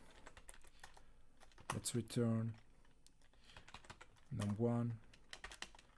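Fingers type code on a computer keyboard in IntelliJ IDEA, producing rapid, close keystroke clatter that continues under someone speaking in two short bursts.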